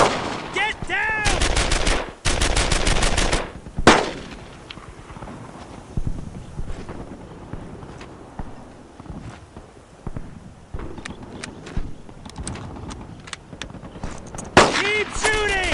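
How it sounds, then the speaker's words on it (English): Bursts of automatic gunfire in the WWII shooter Brothers in Arms: Earned in Blood, loud rattling volleys early and at the end with scattered single shots and shouting voices in between. "Keep shooting!"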